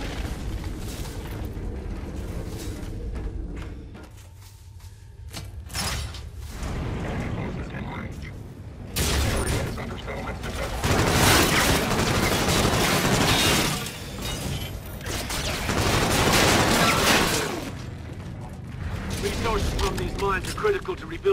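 Gunfire and explosive battle noise from the video game Call of Duty: Infinite Warfare, loud sustained bursts of shooting and crashing debris that swell in waves, with spoken dialogue over parts of the action.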